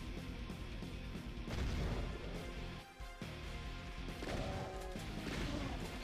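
Grenade blasts from the shooter Doom running on the ZDoom engine, a community-made map, sounding as loud, dense explosive crashes and booms that fill the whole stretch with a brief dip near the middle.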